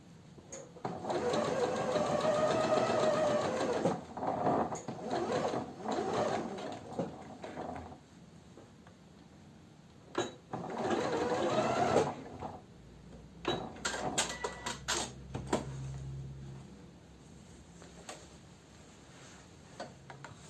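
A sewing machine stitches a seam on women's trousers with bib straps, running in steady bursts with short pauses between passes, close and clear with no talk.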